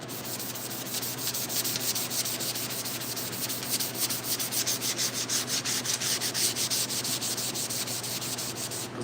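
Close, continuous back-and-forth abrasive rubbing as a Scotch-Brite pad sands the door of a 1968 C10 truck, strokes quickening into a fast even rhythm, with no voices.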